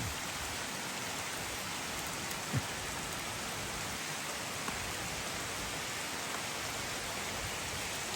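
Heavy rain pours down steadily in a dense, even hiss with no pauses and no voices.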